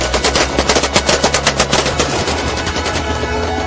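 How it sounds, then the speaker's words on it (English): Rapid bursts of celebratory automatic gunfire in the streets of Sirte, Libya, loud and rhythmic, rattling off in quick succession over a rumbling background. "filled the streets of Sirte with celebratory gunfire"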